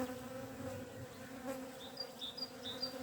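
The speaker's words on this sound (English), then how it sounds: "there's a few bees still buzzing around me" Honey bees buzz around an apiary hive in Ireland, a steady close drone with individual bees passing near and brighter whines rising over it, and no voices.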